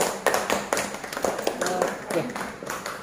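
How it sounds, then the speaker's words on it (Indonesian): A classroom group claps briefly in a burst of uneven, close hand claps, mixed with chatter and voices. "Ya, tepuk tangan."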